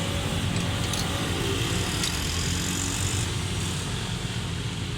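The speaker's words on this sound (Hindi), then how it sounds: "इंजन के अंदर काफ़ी साउंड था ना, इंजन के अंदर" Suzuki Cultus EFI car engine with a fuel fault, running close and loud in a steady, continuous drone with little audible change in revs.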